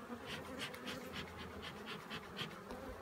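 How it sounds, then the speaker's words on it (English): Dense buzzing of many honey bees during a hive inspection, a continuous pulsing drone close by with no voices. "these bees are making noise"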